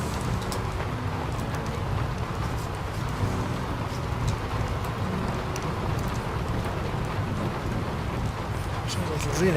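Rain falls outdoors as a steady, even hiss that holds at the same level from start to finish, with no clear voices on top.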